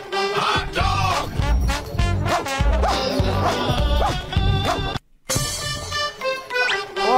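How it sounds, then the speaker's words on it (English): A dog barks repeatedly in quick, loud bursts, with a short gap of near silence before the barking resumes. "Dog!"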